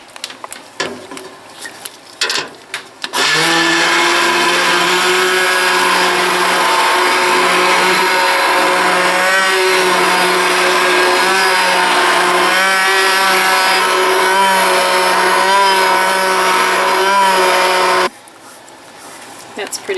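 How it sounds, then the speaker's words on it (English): A stick blender whirs loudly and steadily for about fifteen seconds, mixing and thickening lye soap, its motor pitch wavering slightly, with brief handling noises before and after. "We're going to use our stick blender now and get a little thicker."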